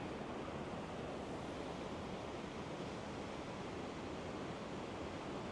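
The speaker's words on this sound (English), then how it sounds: "And the waterfall is on the side." Steady broadband rushing of a Scottish waterfall heard from a high viewpoint, a continuous even roar with some wind noise, no voices.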